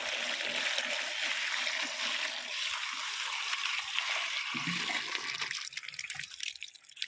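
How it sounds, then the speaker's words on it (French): About ten litres of water is poured onto stinging nettles to make nettle manure: a steady rushing, splashing pour lasting several seconds that thins and trickles toward the end. "Et une fois que vous versez votre eau, voilà."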